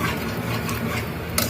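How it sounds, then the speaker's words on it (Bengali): A spoon mashes cooked dal (lentils) in a pot, giving soft continuous stirring and squelching with a light scrape near the end, close by and steady. "আমি এই চামচ দিয়ে এরকম করে একটু ভেঙে দিব, এটা একটু দানা দানা থাকবে।"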